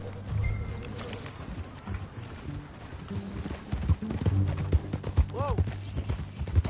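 Horse hooves clip-clop at a walking pace in the Red Dead Redemption 2 video game, under game dialogue and ambient sound, with a voice speaking briefly.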